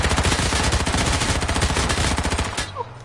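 Rapid automatic gunfire in the H1Z1 video game, loud and sustained bursts rattling steadily for nearly three seconds before cutting off abruptly into near silence.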